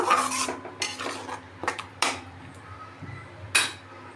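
Metal spoon clanking and scraping against a kadai as egg korma paste is stirred, sharp irregular knocks and scrapes close by with quiet gaps between them.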